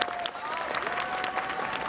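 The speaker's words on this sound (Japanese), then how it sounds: "どうぞ盛大に拍手をお迎えください" A racecourse crowd gives sustained applause, dense and steady, with many hands clapping at once and no pauses.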